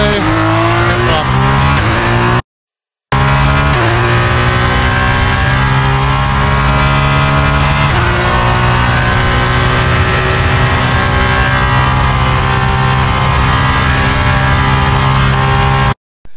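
Loud, continuous F1 race car engine in a racing video game, revving and shifting through gears with rising pitch sweeps, one brief dropout early on and tire squeal hints.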